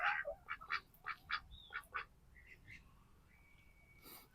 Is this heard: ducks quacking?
yes